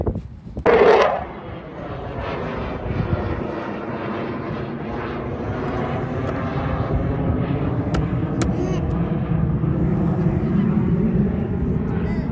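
Aircraft passing over a lake at an airshow, a steady broadband engine roar that swells gradually across the whole stretch, with people talking and exclaiming near the microphone throughout.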